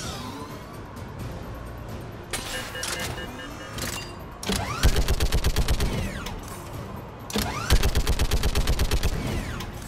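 Rapid bursts of turret gunfire from a mounted gun in Mass Effect 3, loud and close, with a first short volley followed by two longer rhythmic strings of shots over steady game ambience.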